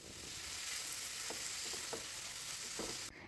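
Chopped tomatoes and salt sizzle steadily in a hot frying pan while being mixed, a continuous close frying hiss with a few soft stirring knocks, cut off abruptly at the end.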